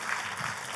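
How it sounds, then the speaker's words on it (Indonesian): A church congregation claps in a dense, steady burst of applause, many hands together filling a large room, with no voices above it. "Boleh berikan tepuk tangan yang paling meriah buat Yesus Tuhan kita."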